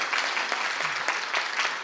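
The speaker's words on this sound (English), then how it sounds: "Feel free to applaud for that." An audience applauds in a brief, even patter of many hands clapping at a public policy event, moderately close and steady throughout.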